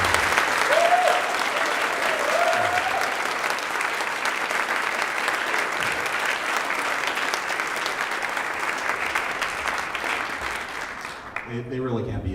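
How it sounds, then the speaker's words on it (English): A concert crowd at a video game jazz ensemble performance applauds the staff and crew with loud, sustained clapping that fills the room and fades at the very end. "please give a huge round of applause to the Rozsa staff and"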